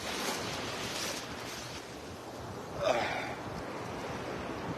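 Sea waves breaking on a beach during a holiday, a steady wash of surf with wind noise across the microphone and one slightly louder swell near the end, heard alone with no talk.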